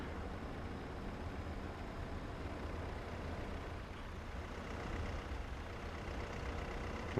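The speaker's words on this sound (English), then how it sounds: "So let's try and get the truck back over there." A truck in the war game Foxhole rumbles on in a steady, low engine drone throughout, fairly quiet and unbroken, with no voices.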